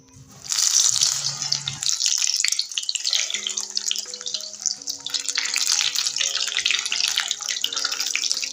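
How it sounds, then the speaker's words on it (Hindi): Potato chicken pockets frying in hot ghee give a loud, dense crackling sizzle that starts abruptly and continues steadily, with a faint background hum. "और अब इनको घी में कर लेते हैं फ्राई।"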